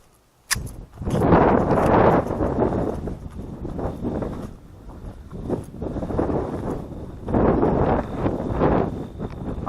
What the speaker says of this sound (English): It's going to be windy out in the range.